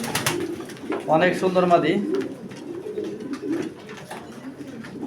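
Pigeons, a large male and a female of a famous line, coo in soft rolling phrases close by while someone talks over them in Bengali.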